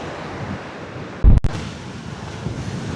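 Ocean surf washing against rocks a few meters beyond the end of the sand dunes at Maspalomas, Gran Canaria, a steady wind-blown roar with a brief loud gust or bump partway through.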